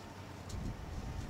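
Low, buffeting rumble of wind blowing against a microphone outdoors, steady and fairly faint with small gusts.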